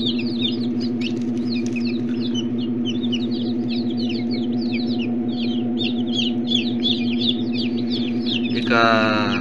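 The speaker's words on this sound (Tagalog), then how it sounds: "itong ating mga sisiw. Kasi nung day 21 nila, doon sila nag-hatch." Newly hatched chicks, 23 days in an incubator, peep in a steady stream of high chirps over a constant low machine hum.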